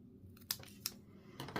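A few quiet, crisp snips as stamped card paper is trimmed down to size, three or four short separate cuts with near-silence between them.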